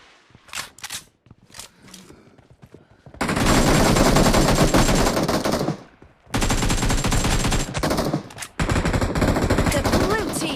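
Automatic weapon fire from the battle royale game BGMI, loud sustained bursts of rapid shots broken by short pauses, with lighter scattered pops and clicks beforehand and game voice callouts mixed in.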